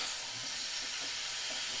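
Cauliflower frying in mustard oil makes a continuous soft hiss, even and unbroken, heard close up with no voices.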